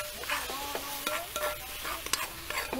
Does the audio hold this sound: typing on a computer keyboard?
no